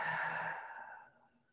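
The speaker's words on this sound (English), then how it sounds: "A conscious inhale and a conscious exhale out the mouth." A slow, deliberate breath pushed out through the mouth, a soft airy whoosh that starts fairly strong and fades away over about a second and a half.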